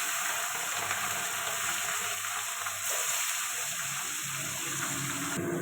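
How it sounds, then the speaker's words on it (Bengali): Rui fish frying in hot oil in a pan gives a dense, steady sizzle and crackle that carries on without a break, moderately loud and close, with no talking. "এবারে মাছটা ভাজতে থাকবো, তার জন্য তেল দিয়ে দেবো মাছটা ভাজার জন্য"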